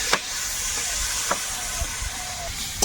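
Water poured into a hot pan of cauliflower curry gives a steady, even hiss of steam and sizzling throughout, with a few faint clicks and knocks.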